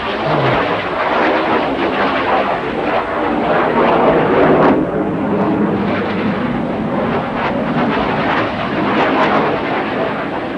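Military jet aircraft flying in formation at an open-house air show at Værløse air base, 1984, giving a loud, continuous roar that swells and rumbles steadily throughout with no talk.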